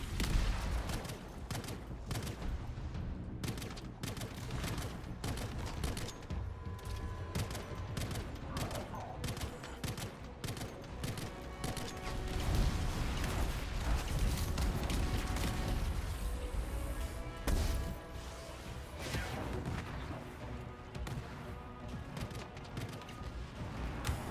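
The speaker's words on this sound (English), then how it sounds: "I shouldn't even be shooting this gun against him" Rapid gunfire from a gun in the video game Anthem, dense repeated shots and mechanical clatter running continuously through a busy boss fight, with a voice talking intermittently underneath.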